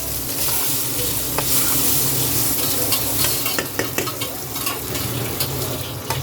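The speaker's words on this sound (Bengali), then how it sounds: "পনিরটাও হালকা হালকা লাল লাল করে ভাজতে হবে" Paneer cubes coated in salt and turmeric fry in a pan, a steady close sizzle running throughout with occasional stirring scrapes and clinks, no talking.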